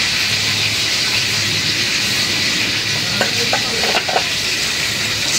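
Hot oil sizzles in a heated wok before eggs go in, a dense, steady hiss filling the whole stretch at close range, with a few faint clinks and scrapes near the end.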